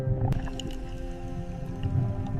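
Sperm whale vocalizations in deep ocean water: sharp clicks over a constant low rumble and tonal hum, steady and moderately loud throughout.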